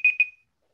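A timer alarm sounds during an online lightning-talk event: two quick, clear electronic beeps in rapid succession, then a short fading tail and silence.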